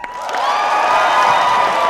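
Audience at an Ignite Phoenix talk breaking into loud, sustained cheering and whooping with some clapping, a dense crowd roar that swells quickly and holds steady.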